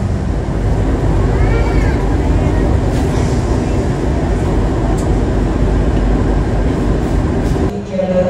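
Interior of the Wijaya Kusuma premium-class passenger train in Indonesia, rolling between Yogyakarta and Purwokerto: a steady, loud low rumble of wheels and carriage noise throughout, with a brief drop near the end.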